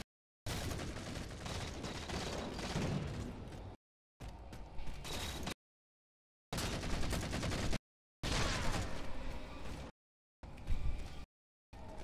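Bursts of rapid automatic gunfire in the video game Halo 4, loud and dense in several segments separated by short silent gaps, with no talking.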